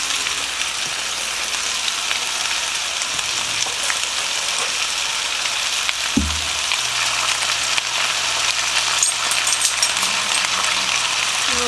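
Sliced potatoes and onions frying in a pan for Southern fried potatoes, a loud, dense, even sizzle with crackling throughout and a brief scrape of a utensil partway through.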